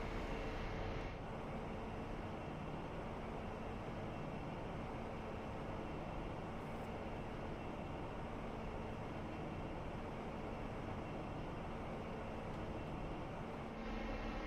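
A Class 166 train on the Midland Main Line from Derby to Sheffield waits to depart in a train simulator, giving off a steady idling diesel rumble and broadband hiss from the cab, constant and unbroken.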